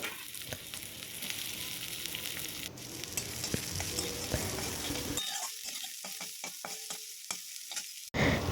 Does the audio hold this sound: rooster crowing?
no